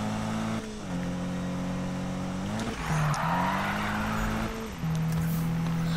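Race cars in Need for Speed 2015 roar through a drift competition, with a steady high engine whine, shifts in pitch as revs drop and climb, and tire squeal during the slides. The sound runs loud and continuous with no talk.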